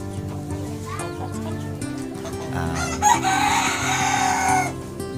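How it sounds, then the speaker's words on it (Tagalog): A flock of buff Orpington chickens nearby keeps up a steady clucking, and one bird lets out a loud, drawn-out crow partway through. "ang nasa likuran ko ay ang aking mga alagang buff Orpington"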